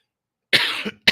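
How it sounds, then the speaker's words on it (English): Two quick coughs close up, the first longer and harsher, the second a short sharp burst after a brief pause, with silence before. "Did you hear me coughing?"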